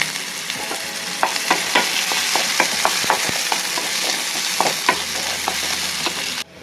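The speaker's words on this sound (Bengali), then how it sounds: "পেঁয়াজ আমাদের ভাজা হচ্ছে" Chopped onions fry with cumin in a pan: a loud, steady sizzle broken by repeated scraping strokes from stirring.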